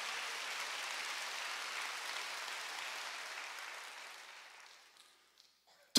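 A church congregation at a Wednesday worship service gives a sustained round of applause that gradually thins and fades out, with a brief sharp sound at the very end.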